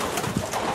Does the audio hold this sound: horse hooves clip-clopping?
no